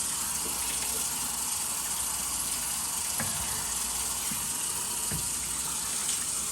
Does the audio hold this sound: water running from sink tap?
yes